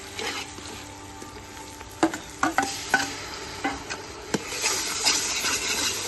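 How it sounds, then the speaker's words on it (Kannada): Ginger garlic paste fries in oil for a village-style chicken biryani, giving a continuous sizzle broken by several sharp scrapes and knocks of a stirring spoon against the pot. "ಶುಂಠಿ ಬೆಳ್ಳುಳ್ಳಿ ಪೇಸ್ಟ್ ಹಾಕಿ ಚೆನ್ನಾಗಿ ಹುರ್ಕೊಳ್ಬೇಕು."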